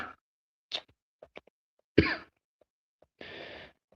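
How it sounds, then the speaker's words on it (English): A man watching a football match lets out a few short, harsh coughs and throat clears close by, separated by silence, ending with a longer rasping cough. "And now me yelling, I've got a cough."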